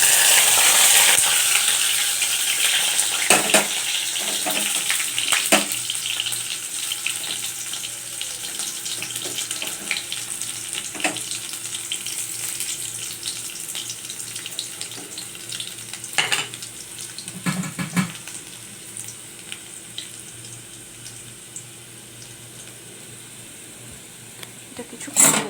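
Black cumin, dried chilli and garlic frying in hot oil, a continuous close sizzle that starts loud and eases gradually, broken by occasional stirring clatters.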